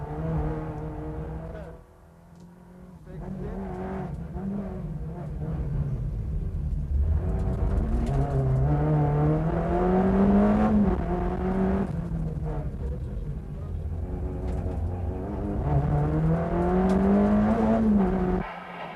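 A Peugeot 309 rally car's engine roars loud and close from inside the cockpit on the 1990 Circuit of Ireland Rally, revs climbing and dropping repeatedly through gear changes with a brief lift near the start.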